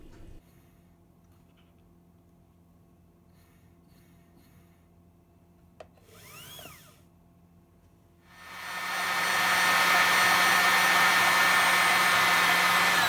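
After quiet handling noises, the spool of a repaired spinning wheel with its brake fitted spins up into a loud, steady whirring rush that holds to the end.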